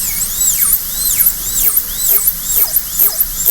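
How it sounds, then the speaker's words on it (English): High-speed dental handpiece with a bur cutting depth grooves into a maxillary canine (tooth number 6) for a porcelain-fused-to-metal crown prep, a close, loud whine that dips and rises in repeated sweeps as the bur bites, with no talking. "let's go ahead and make some depth cuts on tooth number 6 here"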